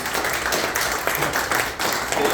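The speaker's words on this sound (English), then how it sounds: "So if we could all give him a round of applause." A crowd at a fire safety presentation in Yellow Bay, Montana gives a round of applause, a continuous rush of many hands clapping at moderate volume, thick and unbroken.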